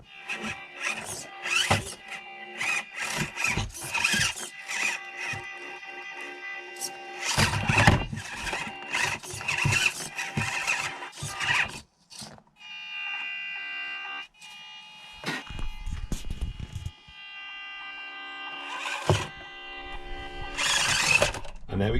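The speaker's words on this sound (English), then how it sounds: "you can just touch the throttle and nice and slowly control down the slope" 1/24 RGT Adventurer V2 mini RC crawler creeping down a slope on light throttle. Its small electric motor gives a thin, high whine that starts and stops in short pulses, along with faint scuffing, while a person talks over it.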